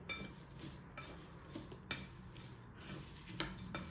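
A spoon stirs millet khakra bhel with spices in a bowl, making soft intermittent clinks and scrapes of utensil against dish, faint and close, with quiet gaps between strokes.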